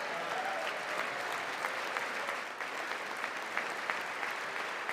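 An audience applauds steadily and continuously at a televised State of the Union address, a dense wash of clapping held at an even level throughout, with no individual voices standing out.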